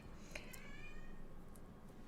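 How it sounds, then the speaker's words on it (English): A cat meowing faintly in the background, one short drawn-out mew rising over a steady low room hum, distant and soft. "you guys can hear her in the background meowing"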